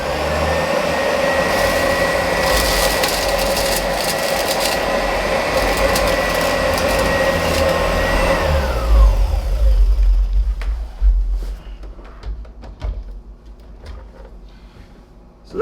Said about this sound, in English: We're going to try the Oreck Discover on its hard floor mode, which slows the brush roller and motor down, but doesn't actually stop it.